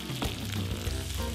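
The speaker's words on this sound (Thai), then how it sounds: "ผัดให้เนยละลายจากนั้นเทไข่ไก่ลงไปค่ะ ขั้นตอนนี้คนเลยนะจ๊ะ คนเร็วๆไปเรื่อยๆจนไข่เริ่มสุกสักเล็กน้อยนะ" Beaten eggs sizzle and crackle in melted salted butter in a hot pan while being stirred quickly, a dense, continuous frying hiss heard up close with no voices.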